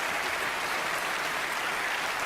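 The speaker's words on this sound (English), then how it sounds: "Give them a round of applause." A live audience at a Most Haunted Live broadcast applauds two team members, a steady, dense wash of clapping that fills the whole stretch without pause or clear individual claps.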